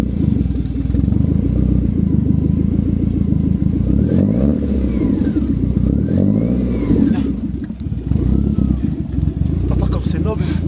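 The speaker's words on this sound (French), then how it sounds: "le démarrage de la meilleure voiture de tous les temps" A Fiat 500 Abarth's small engine cranks to life and revs with a rough, throaty clatter while people talk close by over the running motor.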